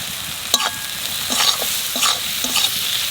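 Spices, with turmeric, coriander powder and salt, frying in oil in a pan for okra, a steady sizzle broken by a few scraping stirs of a spoon.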